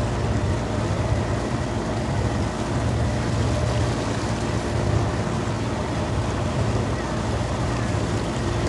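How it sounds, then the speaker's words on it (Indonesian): A fast, swollen river in flood in Kota Tinggi, Johor surges in a constant loud, broadband rush of water, with wind buffeting the microphone and no break in the roar. "Kalau kita tengok arus sangat deras."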